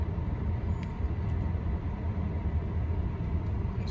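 A 1998 Ford Windstar minivan drives along with a steady low engine rumble and road noise from inside the cabin, constant and fairly quiet throughout with no talk.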